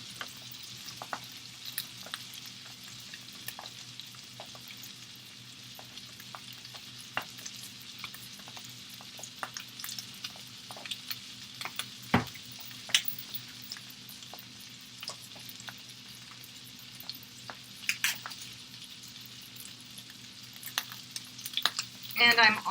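Salmon, zucchini and yellow squash fry in a cast iron skillet with a steady, soft sizzle throughout, punctuated by faint stirring and utensil clicks, with no talking.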